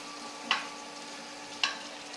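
Ginger and garlic frying in a pan give a steady low sizzle, broken by two sharp clicks of a spatula stirring against the pan.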